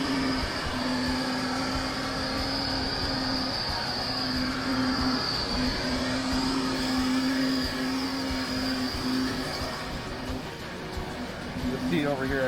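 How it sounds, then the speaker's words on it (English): Steady droning vacuum cleaner runs throughout, a constant whine and rumble close by, with a person talking over it. "The vacuum's running."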